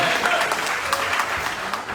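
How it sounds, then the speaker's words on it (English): A crowd at a polka concertina gathering applauds a young player, a brisk continuous clapping close by, with a voice briefly speaking over it. "Hey, now let's give Xander a round of applause"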